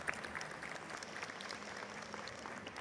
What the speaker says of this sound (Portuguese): uma salva de palmas aos nossos Manabu em Takumi Tsutsui